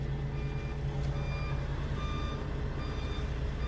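Reverse gear warning beeps on a Temsa Safir automatic-transmission bus, a steady repeating electronic beep close by over a constant low engine rumble.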